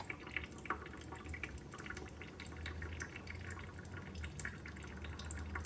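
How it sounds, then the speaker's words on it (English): Water trickles steadily through a partly opened valve into the bladder of a grape press, a soft continuous hiss with faint dripping, close by. "You just open this valve just a little bit so you can hear the water flowing, and that's going to slowly fill this bladder"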